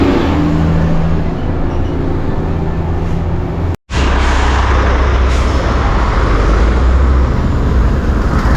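Heavy trucks crawling in night traffic on a road in Bocaue, a continuous loud engine drone and rumble with a brief cutout midway, close by.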